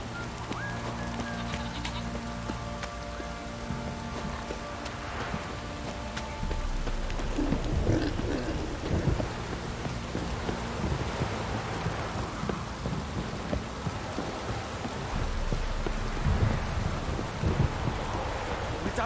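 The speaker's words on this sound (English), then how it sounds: "This downpour's a bastard, it is." Steady rain pours in a stormy night scene from The Witcher 3 video game, with low rumbles of thunder rolling beneath the hiss of the downpour, no voices.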